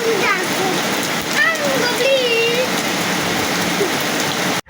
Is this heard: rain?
yes